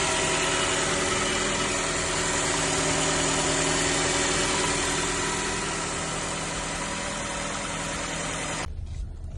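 A 2010 Nissan Qashqai engine idles while warming up in cold weather, a steady close mechanical drone with an even hum that suddenly cuts out near the end.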